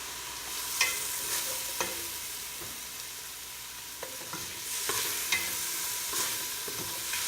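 Garlic and fish sauce frying in a pan for beef tinola, a steady quiet sizzle with occasional soft stirring knocks and scrapes, no talking.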